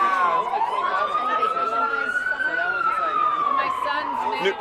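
A wailing street siren in New York rises and falls steadily over a busy urban background, loud and close, with faint talk mixed in.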